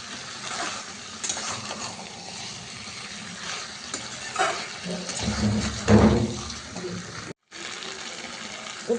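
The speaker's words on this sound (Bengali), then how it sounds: "এবার আমি চিংড়ি মাছগুলোকে ধুয়ে ভালো করে মিশিয়ে দিয়ে একটু নেড়ে নেব।" Shrimp are washed in water, with running-tap splashing and sloshing close by, rising in a fuller gurgle toward the middle before a brief break and more steady rinsing.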